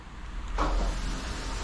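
A steady rushing hiss with a low rumble, as a high-pressure water nozzle sprays inside a blocked 75 mm drain pipe beneath a commercial building's restroom, swelling briefly then holding constant.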